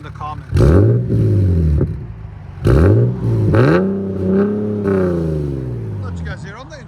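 A 2010 Nissan 370Z with a 3.7L V6 and Vibrant resonators revs hard in several loud, close bursts, each rising and falling, with a steady idle between blips.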